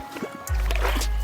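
Water rushes and gurgles into a pool vacuum hose, starting abruptly about halfway through as a loud, steady low gush that continues to the end.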